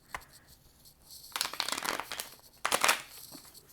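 Tarot cards being shuffled in the hands, two bursts of crisp riffling and flapping after a quiet start, close and fairly loud with no talking.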